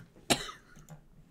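One sharp, close cough breaks a quiet room, followed by a softer catch of breath and the start of another cough at the very end.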